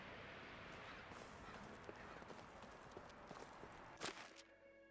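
A donkey's hooves clip-clop at a walking pace in the video game Medieval Dynasty, a steady faint patter of steps over a constant outdoor ambience, ending in a brief louder knock.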